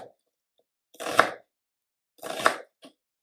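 Knife cutting through half an onion on a cutting board, two separate crisp chopping strokes with a short tap after, close and clear against silence.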